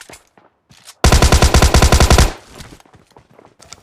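A burst of rapid automatic AKM rifle fire in the shooter game PUBG Mobile Lite, about a dozen loud evenly spaced shots in a sustained volley, then fading echo and low background noise.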